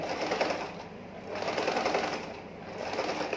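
Sewing machine stitching a zipper onto a suitcase cover made from old jeans, a rapid even whirring in two bursts with a short pause between, close and clear.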